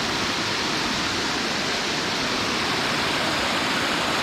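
A large, muddy river runs swollen just after rain, a dense, steady roar of rushing water that stays constant and fairly loud throughout, with no voices.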